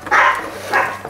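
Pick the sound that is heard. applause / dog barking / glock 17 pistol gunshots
dog barking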